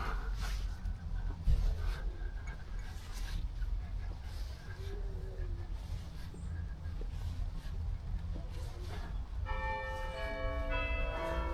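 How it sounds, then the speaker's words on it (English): Church bells in France begin ringing near the end, clear tolling tones rising over outdoor ambience with wind rumble and distant traffic, heard from a moderate distance. "Just on cue, we've got some bells."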